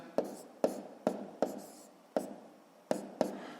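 Pen or pencil strokes on paper while numbers are written for a 6th-grade column multiplication, about eight short, quiet, close taps and scratches at an uneven pace, with no talk.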